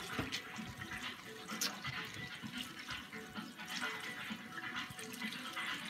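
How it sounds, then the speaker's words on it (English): Cauliflower rinsed in a colander under a running kitchen tap, a steady splashing water stream with irregular spatters as the head is turned, close and moderately quiet, with no talking. "So I'm cleaning it off in a colander."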